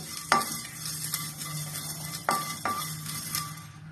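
Whole spices with nutmeg dry roasting in a pan for a chickpea kadala curry, a soft steady rustle with a few sharp scraping knocks as they are stirred, close by, with no talk.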